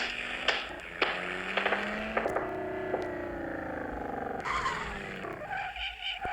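Car tires skidding and squealing in the Los Angeles Crimes video game, a sustained wavering screech with rising and falling pitch across several seconds, loud and close, with brief engine and impact accents and no talking.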